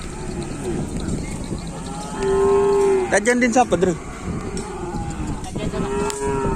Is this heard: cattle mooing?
yes